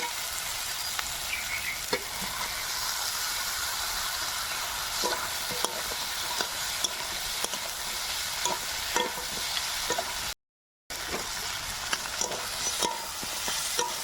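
A catla fish head fries in a pan with turmeric and salt, giving a continuous close sizzle broken by frequent scraping stirs; there is a brief silent gap near the end.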